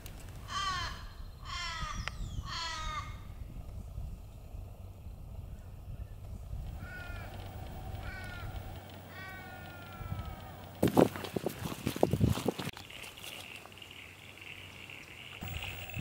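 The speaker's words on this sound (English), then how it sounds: "what we can hear there is the Australian raven, long wailing call" Several drawn-out, wailing Australian raven calls, a quick series early on and more later, over quiet outdoor background in the Upper Murray region of Australia, followed by sharp handling knocks near the end.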